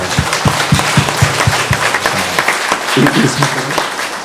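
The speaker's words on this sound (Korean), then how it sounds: "자, 박수 한번 하시죠." Applause from a congregation at a church service dedicating a new education building, steady dense clapping throughout with a voice speaking over it.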